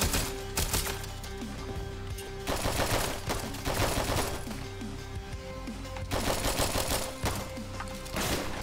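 Shotgun gunfire in Hotline Miami comes in loud bursts of rapid blasts separated by short lulls, all set against a constant game soundtrack.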